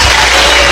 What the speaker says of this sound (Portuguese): Podem louvar a Deus com as palmas.